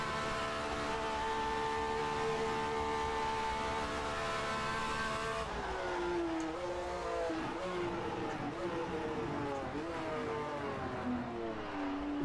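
A 1967-era F1 race car engine screams along the Pescara road circuit in a racing video game, a sustained harmonic whine that drops abruptly in pitch under braking, then wavers through downshifts.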